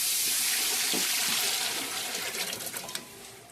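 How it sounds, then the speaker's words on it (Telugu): Water pours steadily into a pot of measured rice, six cups of grain, a broad continuous splashing rush that thins and turns more bubbly toward the end, heard alone. "దానికి వాటర్ దీంట్లో పోసేయాలి."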